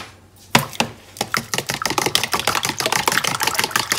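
A fork briskly scrambling eggs in a bowl, rapid clicking taps against the bowl that speed up into a steady clatter, close up with no talking.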